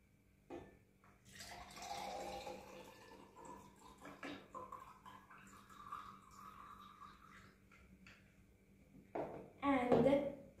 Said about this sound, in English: After 8 hours, pour out the water.